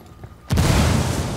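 A frag grenade detonates in Ghost Recon Wildlands, a sudden loud boom after near silence that holds as a sustained, rumbling roar with debris-like crackle filling the rest of the moment.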